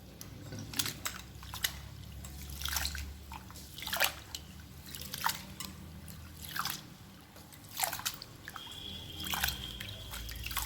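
Rice, Indrayani grains for steamed ukadiche modak, swished and rinsed in water by hand, giving repeated close splashing and trickling bursts with drips between, steady and moderately loud with no talking.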